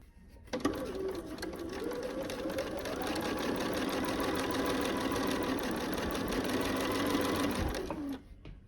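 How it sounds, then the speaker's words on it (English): A sewing machine runs steadily for about eight seconds, stitching light blue and dark blue quarter-square triangle pieces for an Ohio Star quilt block, its motor whirring and rattling close and loud with no pauses. "So I'm going to take those to the machine and sew these 4 and then those 4."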